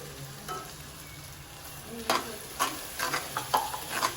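Coriander, cumin and turmeric fry with spinach puree in a pan, a soft sizzle under a run of sharp spoon scrapes and stirs that grow busier toward the end, no voices.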